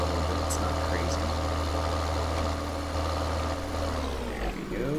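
A loud tractor engine in Farming Simulator 2013 hums at a steady, low idle throughout, constant and droning, without speech.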